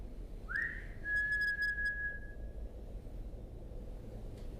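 A single human whistle during a paranormal investigation: it slides upward, then holds a steady, clear tone for about two seconds over a quiet background hiss, with no talking.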